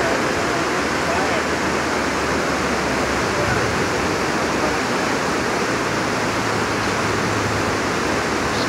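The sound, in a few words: flooded creek rushing at Berea Falls, Ohio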